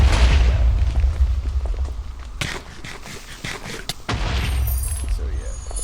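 Explosions in a Minecraft mutant-creatures mod crackle and boom in a few sharp bursts over a rumbling background, with a voice talking faintly.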